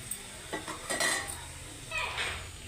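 Fried bitter gourd pieces are tossed into a frying pan with peanuts, lentils, cumin and mustard seeds, giving a quick scrape and clatter of a spatula against the metal pan over a light sizzle, close and fairly soft.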